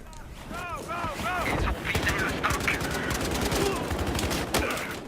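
Sustained automatic gunfire with heavy recoil rattles on for several seconds in a Battlefield Hardline multiplayer match, dense rapid bursts loud and close, with a player's voice talking over the shooting.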